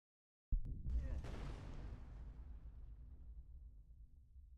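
A single game explosion sound effect in Unreal Engine 5 hits after a short silence with a deep, booming impact, then decays slowly through a long reverberant tail lasting several seconds.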